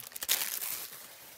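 A plastic bag holding an art toolkit is handled, giving a brief close burst of crinkling that fades over about a second.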